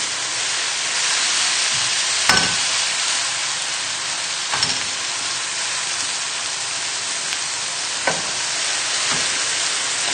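Beef mince browns in a frying pan with rosemary and garlic, giving a loud, continuous sizzle broken by a few clattering scrapes of a utensil against the pan; no one talks.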